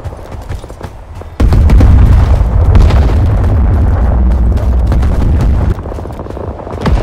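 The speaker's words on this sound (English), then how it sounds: "Fire support, inbound." Heavy artillery fire-support explosions in the Vietnam-era shooter game Rising Storm 2: Vietnam rumble loudly, starting with a sudden deep boom and continuing as a sustained roaring barrage.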